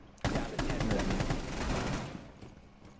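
Rapid automatic gunfire in the tactical shooter game Rainbow Six Siege, a loud dense burst of shots lasting about two seconds before it fades into quieter game ambience.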